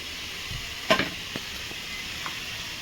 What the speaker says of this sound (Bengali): দেখুন, গোটা গরম মশলা আর গোটা জিরে দিয়ে দিলাম